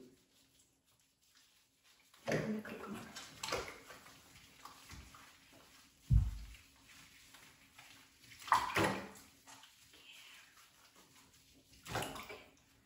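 Tap water running during a beagle puppy's first bath at home, in several splashing bursts with quiet gaps between them and no talk.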